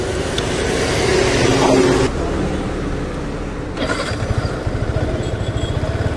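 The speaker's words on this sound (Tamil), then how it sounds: "வண்டி வந்து ட்ரைவ் பண்ணி விட்டுருவோம்." A motorcycle engine idles and then pulls away as the rider sets off, a close, steady low rumble that changes pitch partway through and settles into a throbbing putter.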